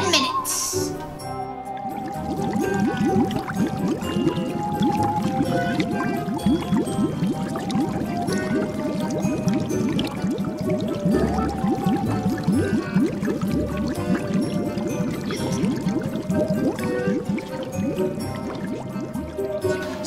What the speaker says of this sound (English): pour the skin out in a thin layer and then refrigerate it